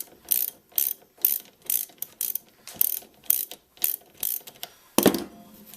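Rapid ratchet wrench clicking while loosening a nut on a Pont Vibe shock strut installation, about a dozen evenly spaced bursts of ratcheting, close and fairly loud, ending in a heavier clatter as the nut comes free.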